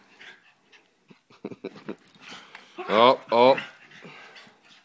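A Westie and a Yorkie playing, with quick huffing pants, soft whimpers and a couple of louder growly yelps close by, while a person speaks briefly.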